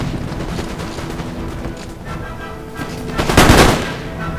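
Massed infantry musket volleys in Empire: Total War crackle in a dense, continuous barrage, swelling into a louder burst of fire near the end with no speech.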